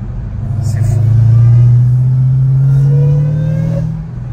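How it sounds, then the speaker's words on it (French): A supercharged 1000 hp dragster engine revs in the street, its supercharger whine rising and holding as a loud tone over a deep rumble before easing off, close by, with no talk. "Ça, le son du compresseur, c'est incroyable."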